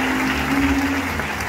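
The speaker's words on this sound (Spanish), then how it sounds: "Un fuertísimo aplauso para mi compañero." Steady applause from a crowd, a dense wash of clapping that holds at an even level for a moment.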